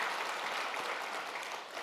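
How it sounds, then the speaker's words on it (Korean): A church congregation in Busan gives steady, even applause during a New Year's Day Sunday service, welcoming a tenor who is the choir's new conductor; the clapping is continuous and moderately distant. "큰 박수로 맞이하겠습니다."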